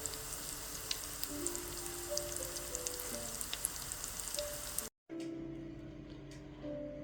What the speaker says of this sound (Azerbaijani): Yağda qızardırıq.